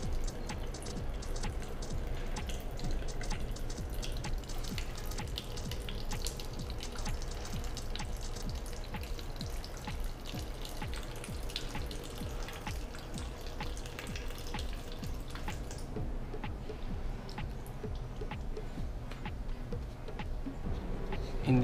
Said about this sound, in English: Remove the water in the boiler.